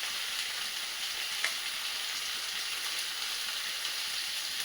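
Chili powder fries in a pan with a soft, continuous sizzle, quiet and even throughout, with no talking.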